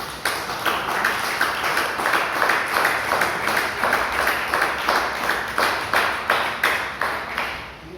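Rhythmic applause at a church service, a crowd clapping together in a steady beat, loud and close, continuing throughout.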